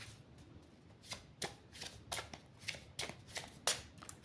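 A deck of cards being cut and shuffled by hand, a series of soft riffling and slapping bursts at an uneven rhythm, close and fairly quiet, with no talking.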